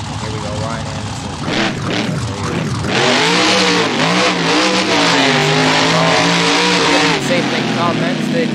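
The Son of a Digger monster truck engine revs hard during a Monster Jam run in Brisbane. A loud, close roar climbs and falls through several rising revs, joined by crowd or arena noise.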